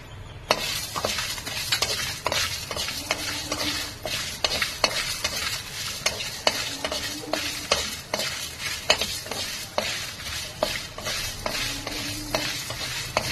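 Dry red chillies fry in a pan with roasting chana dal, a steady sizzle broken by sharp scraping strokes of a spatula at a fairly even rhythm, close and alone with no voices.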